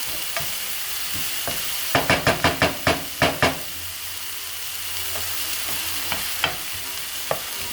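Onions sautéing in a pan for white lemon linguine give a steady sizzle, interrupted midway by a quick run of about eight sharp spatula taps on the pan rim, followed by a few scattered knocks.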